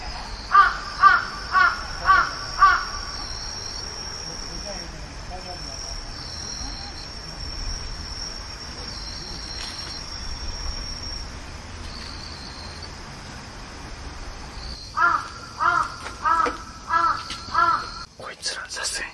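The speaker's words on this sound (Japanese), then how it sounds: "めっちゃカラス鳴いてるわ、なんか。" Crows caw outdoors in two bouts of repeated, evenly spaced calls, one at the start and one near the end, over a steady chorus of insects and crickets.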